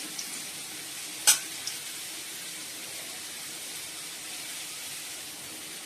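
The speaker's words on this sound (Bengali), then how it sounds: "লাল লাল করে আলুগুলো ভেজে নিচ্ছি।" Potato pieces frying in oil tempered with cumin seeds and bay leaf, a faint steady sizzle with one sharp clatter early on, no voices.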